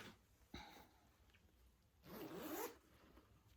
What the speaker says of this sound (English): Zipper top.